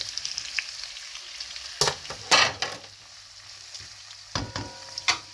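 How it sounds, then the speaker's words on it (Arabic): Diced tomatoes sizzle in a hot frying pan, a steady bright hiss broken by louder crackling bursts as the pieces are stirred, close and without talk. "بعد كده نحط الطماطمية مكعبات"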